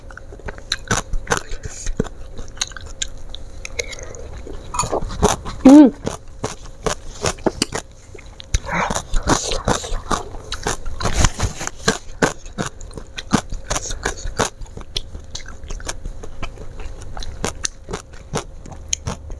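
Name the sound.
chewing and biting salted squid with basil and raw vegetables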